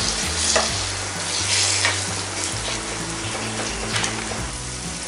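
Minced mutton keema, 250 grams, is stirred into hot oil with masala in a pan, giving a loud, continuous sizzle with scraping stir strokes close by.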